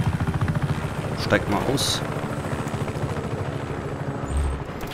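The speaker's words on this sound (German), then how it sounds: "Scheiß auf den Hubschrauber, der ist dann sowieso wieder weg." A helicopter in Just Cause 3 chops with a steady rotor pulse close by, with other game noise layered on top, while someone speaks briefly over it.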